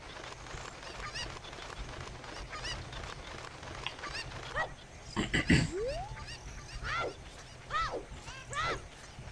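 Chickens in the video game The Legend of Zelda: Ocarina of Time give scattered, quiet squawks and clucks over low background game sounds during a speedrun.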